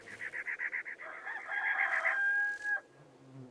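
A rooster in the Sherlock Holmes: Crimes & Punishments video game crows loudly and close after a rapid run of clucks, ending with one long drawn-out note over quiet game ambience.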